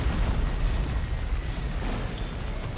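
Orbital strike detonations in the real-time strategy game Dawn of War 2 during a 3v3 battle, a loud continuous rumbling roar of blasts with deep low-end weight and no clear gaps, heard on its own.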